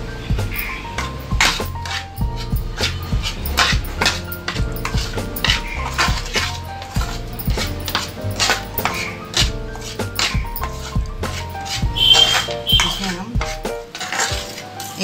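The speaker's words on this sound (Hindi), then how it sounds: "पहले हम 2 चम्मच डालते हैं और इसको अच्छे से मिलाते हैं।" Spoon mixing flour into gulab jamun batter, a steady run of clinking and scraping against the bowl that continues throughout under constant background music.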